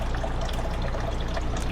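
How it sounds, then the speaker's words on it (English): Steady running tap water splashes continuously while a spoon is rinsed after stirring picadillo, a loud, close, unbroken wash of water with no talking. "Let me wash my spoon."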